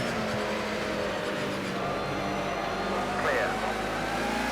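DTM race cars roaring past in Project Cars 2 at Silverstone International, a dense, steady engine drone with another car passing close on the right, under a faint voice.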